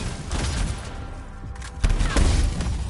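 Gunshots in the video game Anthem, rapid bursts of loud gunfire and booms in a short frantic exchange, close and dense, with little talk.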